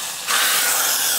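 Hot mustard seeds and urad dal tempering poured into sambar bursts into a sudden loud, steamy hiss that holds steady and bright after a quiet start.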